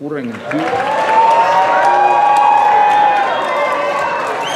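An audience in a hall boos loudly and steadily while a furious man tears up a book, a dense sustained wall of jeering voices that swells after a brief quieter start.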